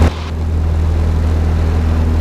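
Propeller engine of a Cessna 738 X-ray Delta running steady and loud at Chino Airport as it begins its takeoff roll on runway 26R, a constant low drone with no talk over it.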